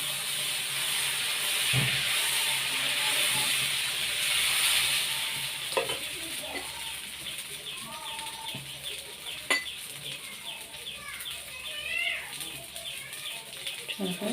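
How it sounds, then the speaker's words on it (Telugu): Pesarattu, a moong dal dosa, fries in oil on a pan with a steady hiss and sizzle throughout, joined by occasional scrapes and taps of a utensil, while a person talks faintly over it. "ఇట్లా నూనె వేసుకుంటూ కాల్చుకోవాలి. పెసరట్టు బాగా కాలుతుంది కదా."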